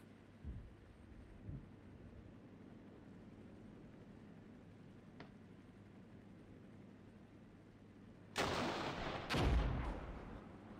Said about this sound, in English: Seems they're firing off grenades.